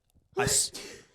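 Single sharp sneeze burst up close, preceded by a quick breath intake and trailing off into a brief exhale.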